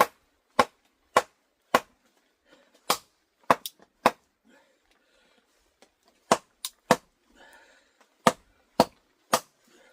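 Firewood is split at a camp in sharp, loud, isolated chopping strikes, about a dozen blows spaced roughly half a second to a second apart with short pauses between bursts.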